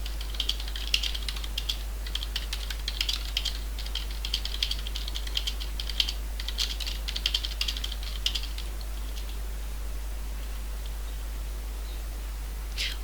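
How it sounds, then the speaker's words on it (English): Rapid clicking bursts of typing on a computer keyboard during a live drawing stream, close and fairly crisp, coming in clustered runs for about nine seconds before trailing off over a steady low hum, with no talking. "I'm typing in the chat because I feel like you guys aren't necessarily hearing my"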